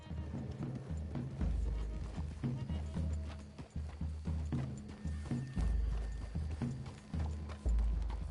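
Horse hooves clip-clop steadily in Red Dead Redemption 2, a loud, close, continuous trot of rhythmic thuds layered over dense game sound with no talk.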